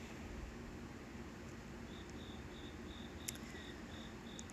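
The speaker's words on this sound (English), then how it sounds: "The crickets are chirping." Crickets chirp at night in a cool, rainy outdoor setting, a steady, faint pulsing trill repeating evenly over soft background hiss, with no talking.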